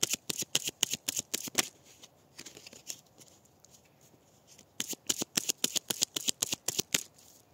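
A deck of tarot cards being cut and shuffled by hand, crisp bursts of rapid riffling flicks in two runs separated by a quiet pause.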